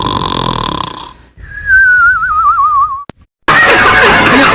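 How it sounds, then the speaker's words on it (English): Cartoon snoring effect for a Numberblocks-style character: a loud raspy inhaled snore, then a long wavering whistle that drifts down in pitch, a brief click, and another harsh snore. "Number block 42 snoring effect"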